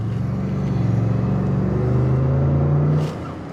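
A 2025 Lincoln Navigator with a 3.5 liter engine accelerating smoothly, its low engine drone rising steadily in pitch from inside the cabin before easing off near the end, with no talk.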